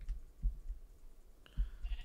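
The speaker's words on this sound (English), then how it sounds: "we got 3 sheep over there" Sheep bleating in the Minecraft video game, a short nasal bleat near the end, faint and synthetic, over low thumps of movement and footsteps.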